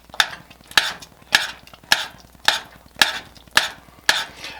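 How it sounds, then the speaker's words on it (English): A spoon scrapes through thick broccoli cheese soup in a pot, eight even, loud strokes in a steady rhythm, close up with no talking. "we'll give it a nice stir here to get it all worked in"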